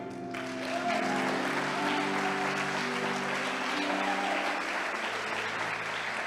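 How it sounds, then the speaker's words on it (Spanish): A church congregation applauds in a dense, sustained wash of clapping. A held musical tone runs underneath, and a voice sounds briefly at the start. "Y ahora sí tiene que aplaudir."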